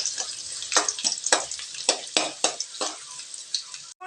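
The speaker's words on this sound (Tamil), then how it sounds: "இப்போது பூண்டு கொஞ்சம் செவக்கட்டுங்க" Garlic cloves, ten to fifteen small ones, sizzling and crackling in hot oil in a pan, with irregular bursts of spattering and stirring scrapes close by, heard alone without talk.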